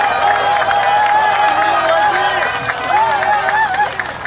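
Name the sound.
crowd applause at a political rally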